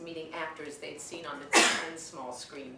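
A single sharp sneeze bursts out loudly in the middle of a woman reading aloud, her voice continuing around it.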